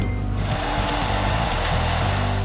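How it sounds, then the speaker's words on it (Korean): A hair dryer blowing with a loud, constant whoosh and a low motor hum, steady and close throughout. "드라이기를 해주고"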